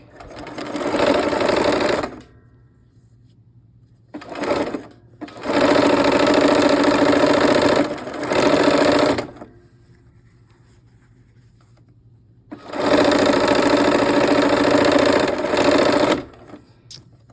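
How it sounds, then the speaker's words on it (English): A sewing machine stitches quilt pieces into rows in three loud, steady runs of a few seconds each, separated by short quiet gaps and one brief burst. "we'll go ahead and sew those into rows here"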